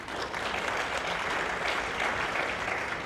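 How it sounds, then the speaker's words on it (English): Steady applause from a gala audience, a dense wash of clapping hands that holds at an even level throughout without any talking. "So please give yourselves a round of applause."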